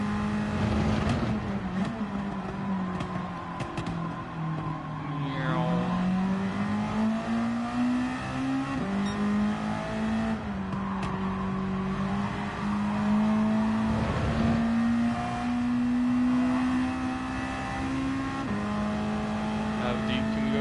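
Suzuki Swift revving hard in a racing video game, a sustained engine drone that climbs and dips through gear changes, loud and continuous throughout, with a voice talking over it.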